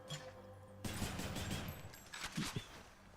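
A gun firing in the game Hades, a sudden onset of rapid shots in a dense volley followed by a couple of separate bursts, moderately faint against the game's backdrop.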